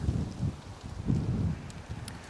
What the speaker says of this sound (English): Oh, that is windy. That is very windy.